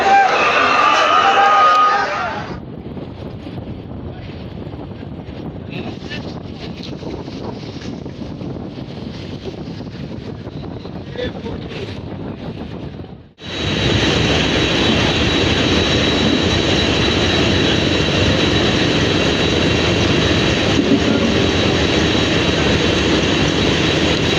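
A large passenger launch, the Surovi 7, rumbles at a busy river ghat, its deep engine drone and rushing wind filling the air, growing sharply louder partway through, with a voice talking over it early on.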